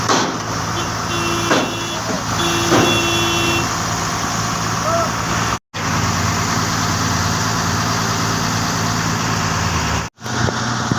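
A JCB excavator and a truck work on a roadside, a loud continuous engine rumble close by with brief beeps early on, broken by two short dropouts, while people talk over it.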